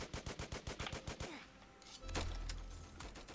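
Rapid bursts of weapon fire in the video game Flag Wars, a steady string of about a dozen evenly spaced shots, loud and close, followed by a heavier explosive blast with a low rumbling tail.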